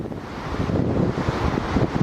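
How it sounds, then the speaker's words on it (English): Wind buffets the microphone in a steady low rumble, gusting slightly louder at moments, with no voices. "A little windy here, hopefully you can hear me."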